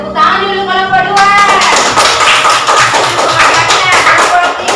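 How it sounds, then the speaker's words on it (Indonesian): Classroom applause for a student group: brisk, dense clapping by many hands close by, starting after a brief tone and carrying on steadily to the end. "Tepuk tangan dulu kelompok 2."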